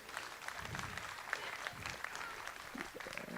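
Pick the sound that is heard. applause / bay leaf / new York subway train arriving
applause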